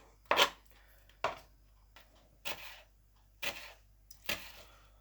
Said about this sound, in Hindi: रेड प्याज को इस तरीके से आपने बारीक बारीक काटना है।